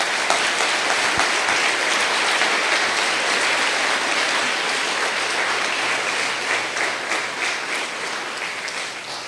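A congregation at a Saturday church service gives sustained, dense applause that stays loud and even, then thins slightly toward the end, with no speech over it.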